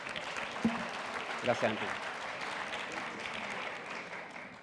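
Audience applause at a Spanish-language business conference on data analysis, a steady broadband wash of clapping filling the room while a voice speaks briefly over it.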